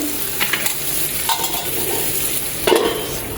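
Potatoes, pointed gourd and fish are stir-fried in a pan, giving a constant loud sizzle with intermittent scraping and stirring knocks from a utensil, close up and without talk.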